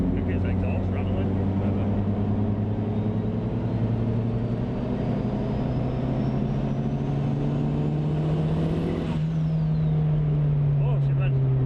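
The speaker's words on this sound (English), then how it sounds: "I think it's exhaust rattling." A turbocharged Mazda MX5 Miata NB 1.8 runs with a rattling exhaust, a continuous engine drone that rises steadily in pitch before dropping off, heard from inside the car with people talking over it.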